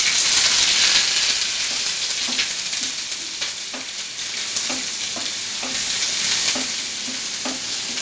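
Curry leaves, garlic and ginger sizzle and crackle loudly in a hot pan for corn bhurjee, a steady frying hiss broken by regular stirring scrapes and taps.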